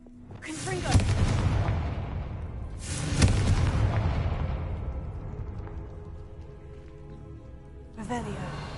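Two explosive Confringo spell blasts from Hogwarts Legacy burst close and loud a couple of seconds apart, each a sharp boom trailing off into crackling debris, with a third softer burst near the end.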